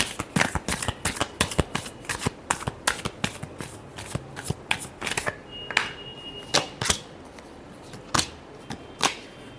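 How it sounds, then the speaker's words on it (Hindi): Playing cards are shuffled over and over, a run of crisp, rapid riffling snaps and taps at an irregular beat, close and fairly quiet, with no talking. "Last shuffle."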